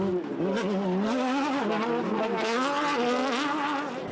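Rick Mann's low-slung rally car at the Goodwood Festival of Speed, its engine wailing continuously and loud, the pitch swinging up and down as it is driven hard through the run.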